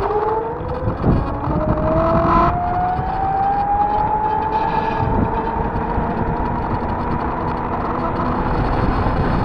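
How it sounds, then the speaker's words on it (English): A bus drives slowly past on a road, its engine drone rising in pitch as it moves by, loud and close against steady traffic rumble. "There's a bus going slowly."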